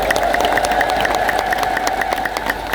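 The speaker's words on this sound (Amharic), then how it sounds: "እስኪ አጨብጭቡ አንድ ጊዜ።" An Ethiopian Orthodox congregation claps together during a sermon, with a steady, rhythmic run of hands beating under a sustained background tone, even and unbroken throughout.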